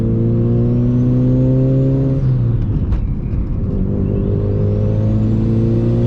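A Mitsubishi Evo engine revs up with turbo boost, its pitch climbing, dropping briefly as it shifts, then rising again, loud and close.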